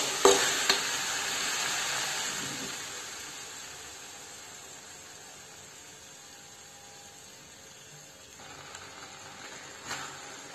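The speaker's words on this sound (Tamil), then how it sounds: "இப்ப நம்ம நறுக்கி வச்சிருக்க சௌ சௌவையும் பூசணிக்காவையும் இதில் ஆட் பண்ணிக்கலாம்." Chopped chayote and pumpkin tipped into a pan of cooking tomato mixture for paruppu sambar and stirred, a bright sizzling rasp with scraping strokes that eases after a few seconds and returns faintly near the end, no talk.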